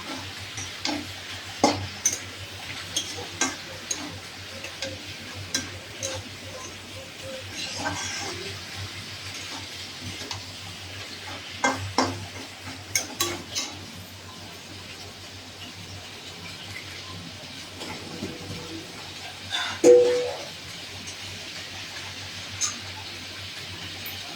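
Boal fish with ginger paste and cumin powder sautéing in a little oil: a low, quiet sizzle under repeated sharp spatula taps and scrapes in irregular bursts, with one louder knock near the end.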